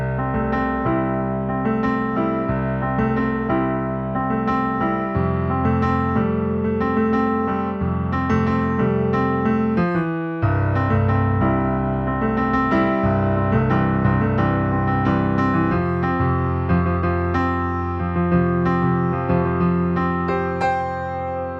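Solo piano plays the melody line of a song, steady and continuous for about twenty seconds at an even volume, with a single brief break near the middle.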